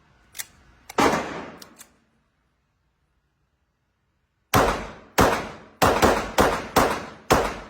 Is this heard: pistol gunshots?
yes